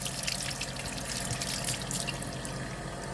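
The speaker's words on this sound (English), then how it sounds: "That's all I had to do, and that's I wash off my bananas." Bananas rinsed under a running kitchen tap, with a steady close splashing stream broken by irregular splatters as the water strikes the fruit, and no talk.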